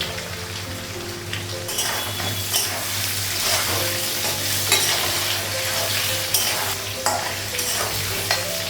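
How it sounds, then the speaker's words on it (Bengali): Potatoes frying in a pan in a home kitchen, a constant close sizzle broken by stirring scrapes and light clinks of a utensil against the pan. "আলুটা ভাজা হয়ে গেছে"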